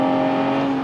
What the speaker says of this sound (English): you hit the throttle